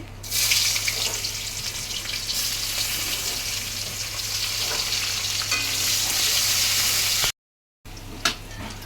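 Chopped onions with nigella seeds frying in hot oil, a strong continuous hissing sizzle with stirring, close and steady, then a brief silent break and a faint clink as it resumes.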